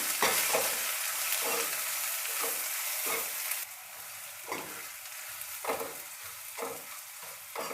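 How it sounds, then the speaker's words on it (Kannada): Crushed garlic, cumin, pepper and asafoetida fry in a pan for rasam: a close sizzle broken by repeated rhythmic stirring scrapes, growing a little quieter halfway through, with no voices. "ಬೆಳ್ಳುಳ್ಳಿ, ಜೀರಿಗೆ, ಮೆಣಸು ಮತ್ತು ಹಿಂಗನ್ನು ಸೇರಿಸಿ ಫ್ರೈ ಮಾಡ್ಕೊಳ್ತೀನಿ"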